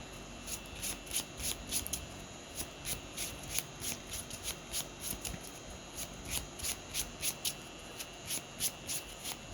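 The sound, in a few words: shuffling trading cards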